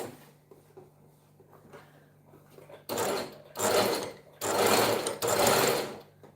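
A sewing machine zigzag-stitches a piece of fabric. After a quiet start, it rattles loud and close in four bursts, with short pauses between runs.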